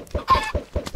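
Minecraft chickens cluck in quick, clipped bursts, several short game-sound calls spaced across a second, close and clear with no talk over them.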